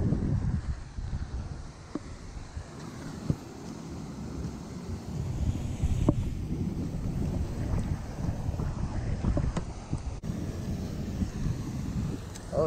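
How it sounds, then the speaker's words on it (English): Strong wind gusts roar and buffet the microphone out on Lake St. Charles in Riverview, Florida, during a freshwater fishing trip. The steady, rumbling rush lasts throughout with no talk. "That wind cracking right here though."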